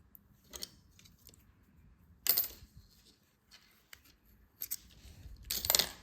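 Scissors snip through a crochet yarn tail on a Christmas ornament, giving a crisp close cut followed by a few light clicks and handling rustles, with no talking.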